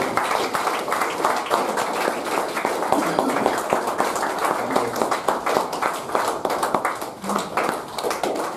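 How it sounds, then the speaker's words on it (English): A room of members applauds someone invited on stage at a Toastmasters club meeting's awards session. The clapping is steady and sustained, with uneven claps throughout and faint voices mixed in. "give him a great round of applause"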